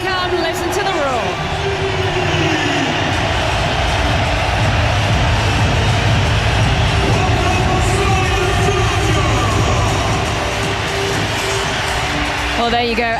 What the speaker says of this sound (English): Listen to the roar.